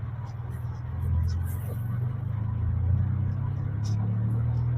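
Manual car pulling away in first gear on a half-engaged clutch with added throttle, its low engine hum building gently and steadily from inside the cabin.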